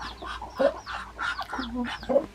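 Chickens and tiny chicks on a farm give soft, short clucks and peeps in irregular bursts, fairly quiet and close, with faint background noise between calls.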